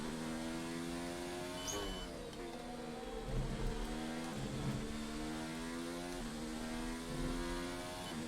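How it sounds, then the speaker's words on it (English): A Ferrari F1 car in a racing video game approaches with a rising, harmonic engine whine, with several revving sweeps and gear shifts at moderate volume under steady background hum. "But here comes one of the Ferraris now."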